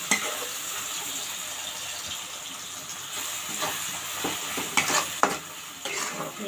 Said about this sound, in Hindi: पियाज भजा हो गला।